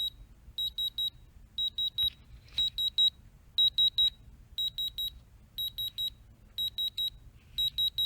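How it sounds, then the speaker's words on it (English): A tiny 1970s Sharp calculator beeps rapidly in short bursts of three or four, repeating at a steady pace about once a second, thin and high, fairly quiet. "that makes those beep beep beep sounds"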